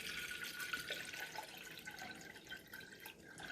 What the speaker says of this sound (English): We're going to pour white vinegar in